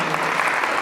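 A crowd applauds steadily at a book launch, a dense wash of many hands clapping at once throughout.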